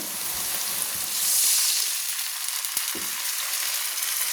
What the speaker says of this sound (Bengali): পেঁয়াজটা আমার লাল লাল করে ভাজা হয়ে গেছে তো এবার আমি দিয়ে দিলাম একটু জল